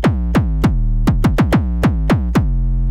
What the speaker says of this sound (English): the first instrument we're gonna go over is the kick bass